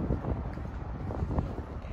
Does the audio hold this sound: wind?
yes